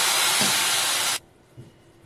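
Hot water poured onto frying masala of red chilli, Kashmiri chilli, coriander-cumin powder and ginger-garlic paste gives a loud, steady steam hiss for about a second, cutting off abruptly into a quiet pan with faint low sizzling.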